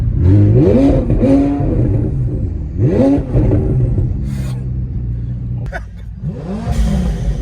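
A car engine at a garage is blipped repeatedly, giving several loud revs that rise and fall in quick bursts with an idle between them, and voices sound around the engine noise.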